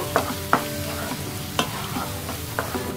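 A spoon stirs egg masala curry with spices in a pan, scraping in uneven strokes with soft sizzling beneath, close and moderately loud with no talking.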